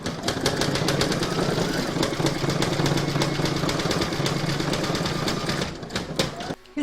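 Embroidery machine stitching the stalk of an in-the-hoop apple coaster, a steady rapid mechanical chatter with a fast repeating needle rhythm, close and continuous, fading near the end.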